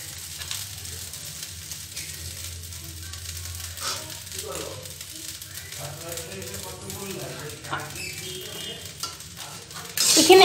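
Fried rice being stirred in a pan on low flame, a continuous soft sizzle with spatula scrapes and clatters, a voice talking over it, and a louder burst at the very end.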